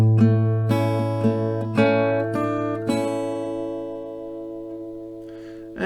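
Acoustic guitar strums the full A section of a song, a handful of ringing chord strokes that sustain and slowly decay, played alone and close.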